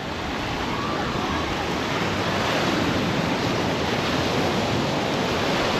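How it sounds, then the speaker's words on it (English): Waves wash and break along a beach in a continuous broad rushing roar, steady and fairly loud with wind buffeting the microphone. "Wow, loving this beach"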